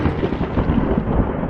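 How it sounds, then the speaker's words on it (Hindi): Thunder rumbles through a cartoon storm, a loud, continuous low roll with rain-like hiss, filling the short stretch without a break. "बादल गरजे, बिजली कड़की"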